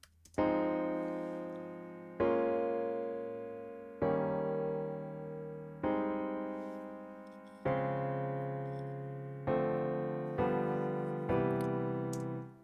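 MIDI piano chords in Pro Tools struck one at a time, seven in steady succession, each held and decaying before the next, clear and alone.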